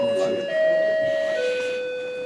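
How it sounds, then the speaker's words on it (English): A doorbell chimes indoors, a clear electronic two-tone ding-dong, the first note higher and the second lower, ringing out and fading during a meeting. "It's the doorbell."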